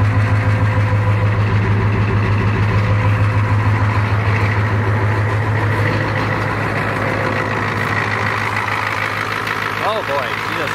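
A 1980 Freightliner dump truck with a Cummins 855 diesel runs at half throttle, a loud, steady, rumbling drone close by that eases slightly toward the end, with a person's voice briefly over it.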